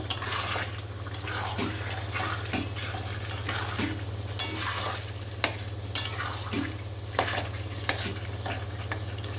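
A large batch of frying food stirred with extra turmeric while making carrot halwa: a steady close sizzle runs throughout, broken by repeated scraping and clattering strokes of the spoon against the pan, no voices.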